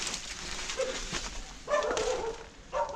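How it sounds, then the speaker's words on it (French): Dog barking at a campsite in Imouzzer du Kandar in the Moroccan Atlas, a few fairly faint barks and yelps at a distance against steady outdoor background noise. "Il y a le chien qui aboie."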